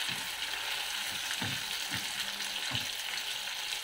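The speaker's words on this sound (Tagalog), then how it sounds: "Pagigisa ko rin ito." Chopped tomatoes sauté in a hot pan, a constant close hiss of frying overlaid with soft, rhythmic stirring knocks about every half second, with no voices.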